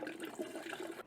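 Crushed Korean pear mash pours and splashes into a container in a kitchen, a steady wet sloshing stream lasting about a second, close and fairly loud, with no talk.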